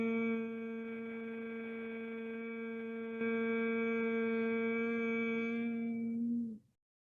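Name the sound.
group humming during yoga hum chanting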